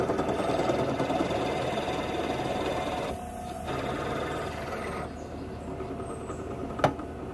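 A drill-mounted plug cutter bores birch hardwood plugs outdoors, a steady whirring grind that pauses briefly twice, with a sharp click near the end.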